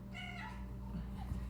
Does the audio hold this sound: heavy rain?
no